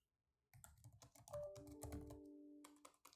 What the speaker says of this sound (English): or I'll just simply type in the message.